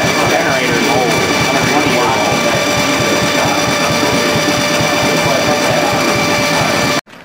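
A 130-year-old generator engine runs with a fast, steady mechanical chatter and a constant whine, loud and close, while people talk over it before it cuts off abruptly near the end.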